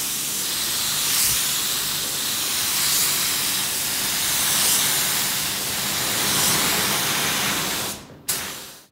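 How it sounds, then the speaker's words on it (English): Close, loud hiss of a spray gun firing thick polyester spray filler onto a panel of a Toyota Celica GT4 during bodywork, a continuous rushing spray that swells and eases slightly before cutting off abruptly near the end. "So, you can see how thick that polyester spray filler is."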